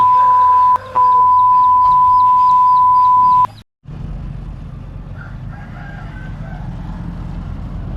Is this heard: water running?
no